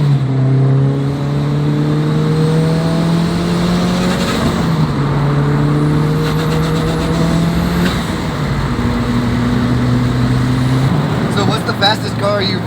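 Turbocharged 500HP Mitsubishi Evo X engine revving loudly in steady harmonic pulls, close and continuous, with wastegate chatter and hiss at the ends of throttle bursts while people talk in the car.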